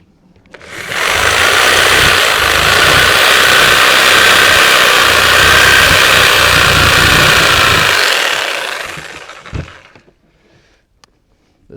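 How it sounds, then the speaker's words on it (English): Sawzall reciprocating saw cutting through a pork belly with ribs and loin attached, a loud, close, continuous buzzing rasp lasting about seven seconds before it winds down and stops, then near silence. "This Sawzall is meant just for this purpose."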